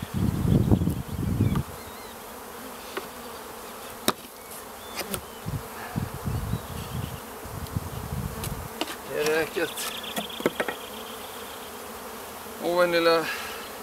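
Honeybees swarm around an open hive during a spring inspection in Reykjavik. Their buzzing is steady and close, broken by wooden knocks and frame clatter as the box is handled, with brief bursts of handling noise.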